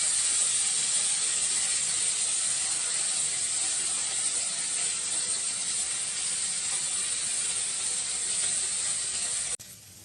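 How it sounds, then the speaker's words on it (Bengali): Potatoes lightly fried with ginger and green chili paste for a potol dorma, giving a steady, loud hiss of frying oil that runs unbroken and cuts off abruptly near the end. "আলুটা হালকা করে ভেজে নিয়ে আদা কাঁচা লঙ্কা বাটা দিলাম"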